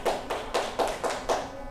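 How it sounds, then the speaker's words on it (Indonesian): A classroom gives a student named Agung a round of applause: about six crisp, evenly spaced claps in a quick steady rhythm, close and moderately loud, with no talk over them. "Tepuk tangan dong buat Agung."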